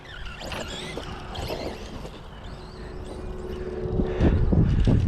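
A Team Associated DR10 RC dragster accelerates with a buzzing, rising motor whine that stays steady and fairly loud, then swells louder near the end as the throttle opens.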